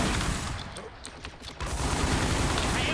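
Gunfire in a shooting video game, a loud dense burst of rapid shots that thins briefly in the middle and then resumes just as heavily.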